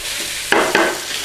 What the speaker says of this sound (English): And then all we need to do is just give it a little whiz about in the pan.